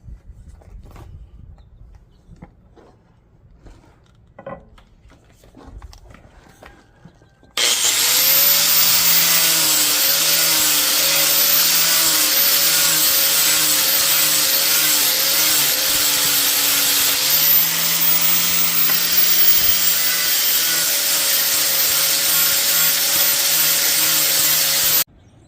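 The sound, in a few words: sander shaping a wooden axe handle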